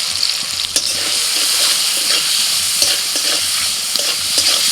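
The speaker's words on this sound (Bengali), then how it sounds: "তেলের মধ্যে ফোড়নে দিচ্ছি কালো জিরে কাঁচা লঙ্কা টমেটো কুচি হলুদ গুঁড়ো" Black cumin (kalo jeere), green chilli, chopped tomato and turmeric powder crackling in hot oil, a loud continuous close sizzle with occasional stirring clicks, no voices.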